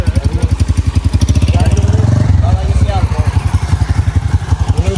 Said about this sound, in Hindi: अब इन बाइक को हम छोड़ने जा रहे हैं